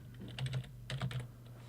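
Fingers tap out a name on a computer keyboard in two quick, quiet bursts of a few keystrokes each, close and soft over a low steady hum.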